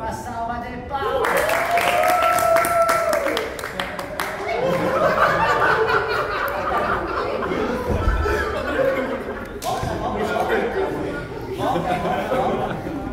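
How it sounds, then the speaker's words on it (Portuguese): Audience applause during a one-man stage show, clapping mixed with laughter and chatter from the crowd, with voices speaking over it throughout. "Uma salva de palmas."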